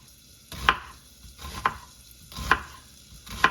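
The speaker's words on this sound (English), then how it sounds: "So let's get the onions cut up here." Four spaced, crisp knife chops through onions on a cutting board while making creamy mushroom soup. The strokes are close and clear and land roughly once a second, with quiet between them.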